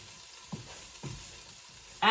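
Food sautés in a pan before red cabbage goes in: a quiet, steady sizzle with a few soft scrapes of stirring, ending in a sudden louder crackle.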